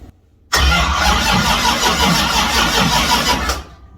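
A big block Mopar roller engine turns over in cold weather, a loud, close burst of rapid rhythmic cranking that begins suddenly, holds for about three seconds and then cuts off without firing into an idle.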